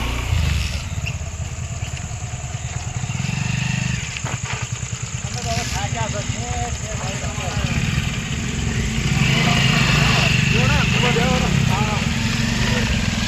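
A motorcycle engine runs steadily at close range throughout, with a low rumbling idle and people talking over it.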